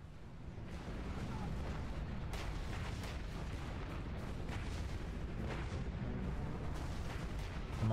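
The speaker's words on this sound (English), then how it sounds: "now we can try to throw a grenade" Grenade blasts and gunfire in the War Mongrels video game, a dense run of booming, crackling combat sounds held loud for the whole stretch, with a voice faintly mixed in.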